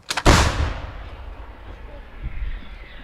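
A single loud blast from an M777 howitzer booms nearby, followed by a long rumbling echo that slowly fades.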